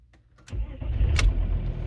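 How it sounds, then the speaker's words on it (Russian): Audi A6 C5 engine cranking and catching at close range, a short starter whir followed by a sharp rise into a steady idle, with no voices. "Но машина без проблем заводится."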